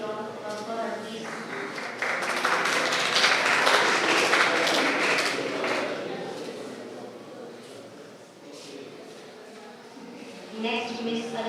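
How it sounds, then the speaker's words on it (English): Audience applause at a certificate ceremony in a hall, a dense wash of many hands clapping that swells, holds steady, then thins out, with a voice speaking over it near the end. "Have a round of applause, please."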